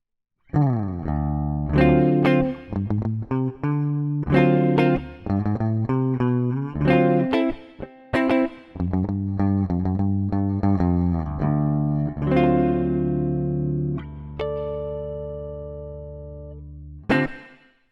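Clean electric guitar played through a Universal Audio UAFX mini pedal, a tape echo with modulation, picking out a funky rhythmic phrase of chords and single notes with echo trailing the decays, played alone with no talk.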